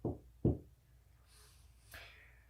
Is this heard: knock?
yes